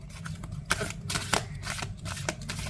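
Tarot cards shuffled by hand at close range, with a steady soft riffling texture broken by several sharper snaps and card flicks, and no voice.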